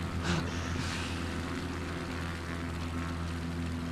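Piper X-Cub light aircraft engine in a flight simulator game, a steady, loud propeller drone with a constant low hum throughout, no talk over it.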